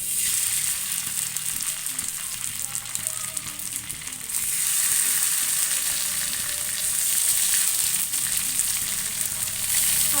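Roopchand fish coated in semolina sizzles steadily in hot oil on a pan on the stove, a loud, continuous close-up frying hiss that swells briefly midway.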